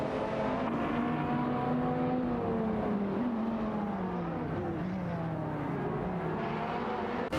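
Two cars race in a video game, a Lamborghini Murcielago SV and a BMW 3.0 CSL Homage, their engines droning loudly and steadily throughout, pitch rising and falling through gear changes.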